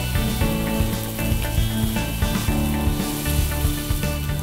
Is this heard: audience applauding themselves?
no